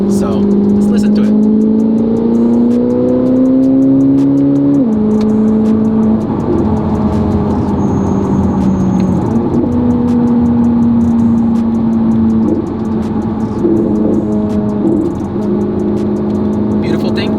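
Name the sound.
modded 1200HP Corvette C8 ZR1 engine revving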